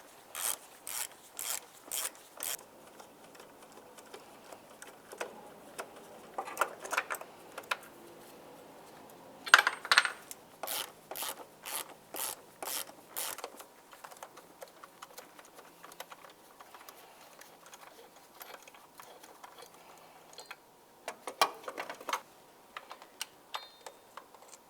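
A 10 mm socket ratchet removes intake bracket bolts on a 2010–2013 Ford Transit Connect, producing faint bursts of rapid metallic clicking separated by pauses and quiet handling noises.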